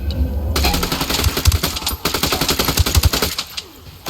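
Video game gunfire in Ghost Recon Wildlands as rebels trade shots with cartel fighters, dense overlapping automatic bursts and single cracks rattling continuously at close range without talk.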